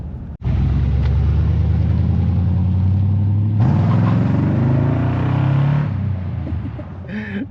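Truck with new mufflers starts up and revs hard, a deep throaty exhaust rumble that climbs in pitch through a long rev, holds loud and close, then settles back down.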